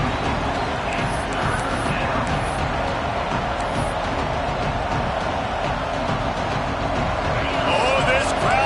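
Stadium crowd roaring and cheering in a college football video game, Auburn against Ole Miss, a dense steady wall of noise that swells slightly near the end, with a commentator talking over it.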